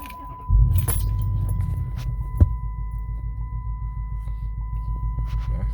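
A Chrysler 300C engine idles with a misfire, a low rhythmic throbbing hum with an uneven pulsing beat, steady and close, preceded by a brief clunk.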